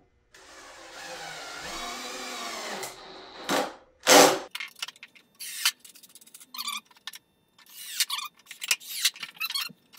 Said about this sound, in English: it's time to pop the screws in.